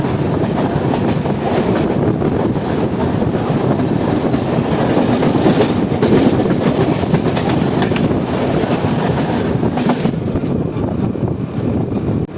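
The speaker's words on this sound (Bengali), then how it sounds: "আমাদের সঙ্গে আবার দেখা হয়ে গেল শিলচর আগরতলা থেকে শিয়ালদা যাওয়া কাঞ্চনজঙ্ঘা এক্সপ্রেস" The Kanchenjunga Express, running Agartala to Sealdah, rumbles past on the rails with a steady loud roar and faint clickety-clack throughout, heard from a nearby moving train.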